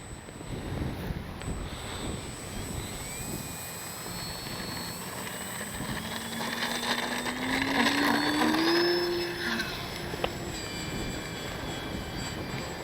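An FMS Ranger RC model airplane flies in beginner stability mode on a windy day, its electric motor whining and rising in pitch as it passes closer, then easing off, alone without voices.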